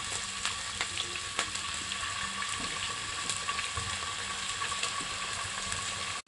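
Chicken pieces fry in a preheated pan with a little corn oil, giving a steady, close, broadband sizzle with a few soft pops and crackles, alone and without talk, ending abruptly.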